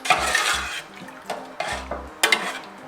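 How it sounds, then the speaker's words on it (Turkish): Egg-based sauce is stirred quickly into a pot of lung soup, with scraping and clinking bursts of a utensil against the pot coming in several uneven waves, close by, over a low background hum. "Hazırladığımız terbiyeyi hızlı hızlı karıştırarak ilave ediyoruz."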